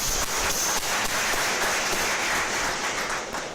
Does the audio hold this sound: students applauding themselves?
yes